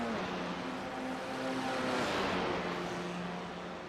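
A Formula 4 race car at Imola climbing the hill out of Tosa, its engine whining with shifting tones and swelling louder toward the middle before easing away, heard under faint background noise without talk.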